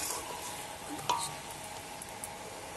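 Marinated chicken and new potatoes being stirred in a pan over a wood or coal stove, with a steady low sizzle of frying and a single soft clink of a utensil against the pan, close and quiet, with no talking.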